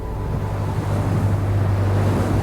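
A small passenger boat pitching on open ocean swells on the way to St Agnes in the Isles of Scilly, heard as a steady rushing wash of waves and wind buffeting the microphone, loud and continuous.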